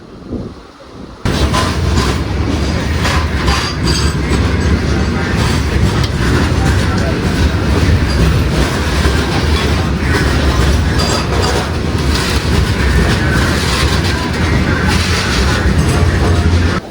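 A steady, loud rumble and clatter of a goods train passing through Nagore railway station fills the whole stretch, broad and continuous with no pauses.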